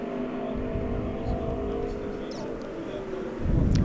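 Modified race cars at an All-Star Shootout lap the track with a continuous engine drone, rising into a louder roar near the end, while a commentator talks over the noise.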